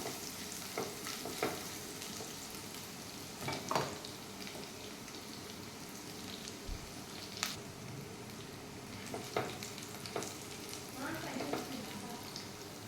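Ginger, garlic and green chilies fry in a pan with a constant low sizzle, broken by scattered scrapes and clinks of stirring, close and soft.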